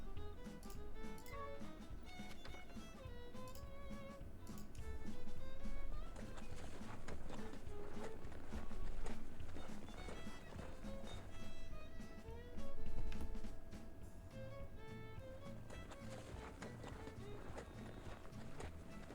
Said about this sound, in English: What a good horsey he is.